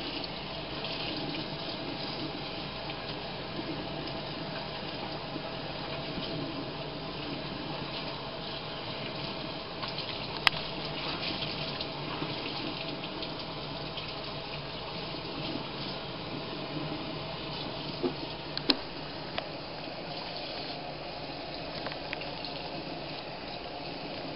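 Steady running tap water pouring into a sink while rinsing freshly dyed cross-stitch fabric, a continuous hiss with a few small clinks and splashes, close by.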